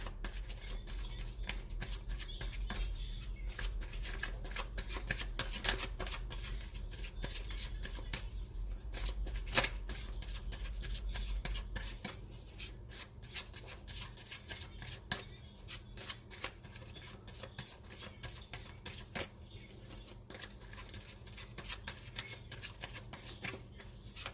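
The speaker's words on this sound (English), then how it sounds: "Can we get a card, please, for Scorpio?" A deck of crystal reading cards is shuffled by hand, giving a soft, continuous riffling and rustling that carries on for the whole stretch at low volume.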